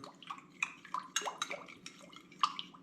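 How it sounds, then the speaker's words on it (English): A spoon stirs curing salt into cold water in a container, giving close, light clinks and liquid swishes in an irregular rhythm with no talking. "I stir this cure up until it dissolves in my water"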